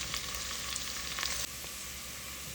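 Ginger and garlic hit the oil in a curry pan and sizzle in a bright, steady hiss, close and alone, with a few light crackles early on.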